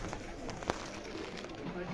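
Low cooing from dub breed pigeons rolls on at a pigeon show, with a short sharp knock near the middle and faint background murmur underneath.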